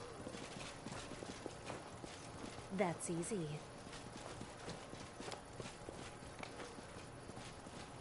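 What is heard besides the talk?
horse hooves clip-clopping in the video game Pathfinder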